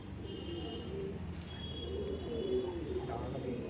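Pigeons coo softly in a racing pigeon loft, low rolling calls repeating under a steady background hum, fairly faint and close.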